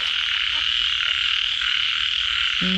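Dense, steady frog croaking fills a rice field on a rainy day, a continuous buzzing chorus of many frogs close by with no talking.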